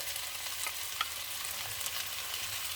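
Beef and garlic fry together and get tossed around in a pan, giving a soft, continuous sizzle with faint scraping and stirring sounds and no talking.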